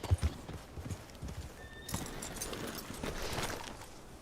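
Horse hooves clip-clop in a steady rhythm in Red Dead Redemption 2, joined by a short whinny near the middle, with the game's ambience beneath.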